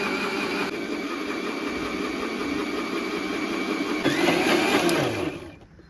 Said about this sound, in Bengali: এখন এইভাবে আরও কিছুক্ষণ ব্লেন্ড করলেই হয়ে যাবে ঘিটা।